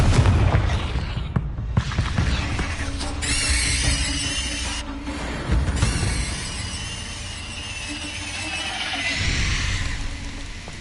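Confringo spell explosions in the video game Hogwarts Legacy, with several loud booming blasts and sharp crackling bursts mixed with squealing magical effects over a continuous rumbling combat bed, no talking.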